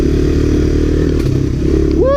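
A 1985 Honda Big Red ATV engine fitted with an MBRP exhaust drones steadily and loudly up close on a rocky trail ride, its low chugging note constant throughout with a brief rising whine near the end.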